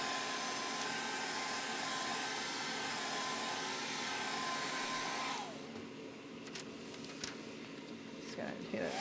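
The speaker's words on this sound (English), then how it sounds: "I'm going to hit it with the hairdryer just to speed up that process" A hairdryer drying spray on sandcarved stone blows as a loud, steady whoosh close up for about five seconds, then cuts off, leaving quiet room noise with a few light knocks.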